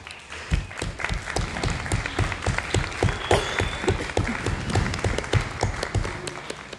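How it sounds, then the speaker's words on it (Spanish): Scattered audience clapping at a Spanish-language book presentation, a modest crowd applauding with distinct individual claps at a steady, moderately loud level, no speech over it. "les pido un aplauso"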